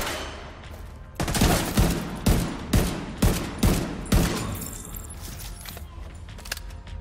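Gunfire in The Division 2, a burst of sharp, loud shots landing in quick succession over a few seconds, then trailing off into quieter background game noise with no talk.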